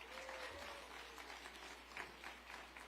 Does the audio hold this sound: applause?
yes